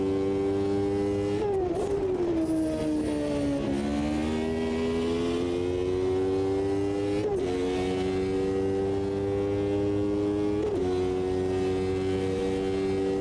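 A classic Williams Formula One car in a racing video game holds a loud, steady high-pitched engine whine near top speed along the Hockenheim straights. The pitch dips briefly at a few gear shifts, then climbs again.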